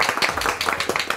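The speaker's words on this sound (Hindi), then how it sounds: "तालियां।" Office staff clapping in a short, close burst of individual sharp hand claps, a few people applauding briefly.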